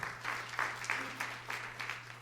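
Congregation clapping during a church service, a steady dense patter of many hands sustained for a couple of seconds over a low hum, fairly close and moderately loud.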